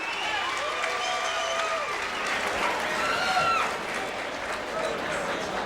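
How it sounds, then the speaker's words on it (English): A crowd at a women's kickboxing fight cheers and applauds after the bout ends, a broad sustained roar heard under an announcer's commentary. "the crowd gives it up, as well they should"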